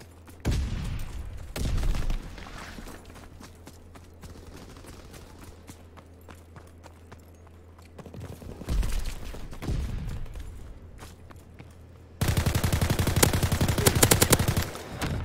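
Gunfire in Call of Duty: bursts of rapid automatic fire come in loud clusters over a steady low game hum, ending in a long, dense volley.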